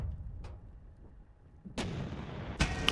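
Tank cannon fire in a WW2 turn-based strategy video game, two sharp loud booming shots about a second apart, the second a heavy blast with lingering rumble.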